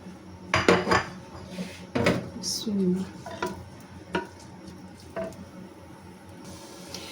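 Chopped onions hit a pan of cumin seeds in a home kitchen, followed by several clanks of a spoon against the pan and stirring, with faint sizzling between the knocks.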